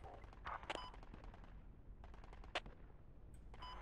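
Mortar and gunfire in the military shooter Project Reality, set on the Nuijamaa map: several sharp distant blasts and bursts of shots crack over a constant low rumble of battle, with no voices.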